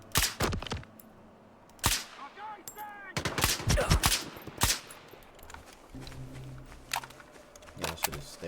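Gunfire from an 11-round gun in STALKER 2: Heart of Chornobyl, sharp loud shots in irregular bursts over several seconds, mixed with a voice talking and other game noise.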